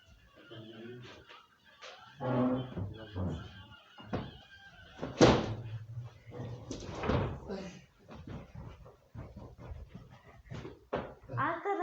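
A door swings shut in a home with a single sharp thud midway through, surrounded by people talking and moving about indoors.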